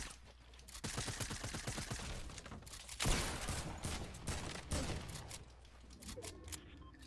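Gunfire from the Fortnite video game, including pump shotgun blasts, in a dense fusillade of rapid shots with loud bursts around the middle, heard close amid game noise.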